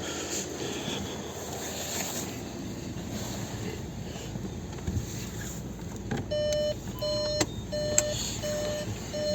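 A 2014 VW Touran 2.0 TDI with DSG gearbox sounds its door-open warning, a series of short, regular electronic beeps over the idling engine and cabin noise.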